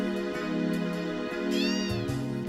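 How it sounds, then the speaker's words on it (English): A cat meows repeatedly in the video game Final Fantasy VII: several clear, drawn-out mews over a steady background music bed, with no one speaking. "Yes, it is a kitty."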